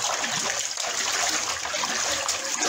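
Rough stormy water rushing and splashing around a boat at sea, a dense continuous wash of spray and surging waves filling the whole stretch, loud and close, with no clear break.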